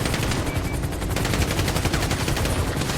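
Rapid automatic gunfire from a video game rattles continuously in fast, even bursts, loud and close, with no voices.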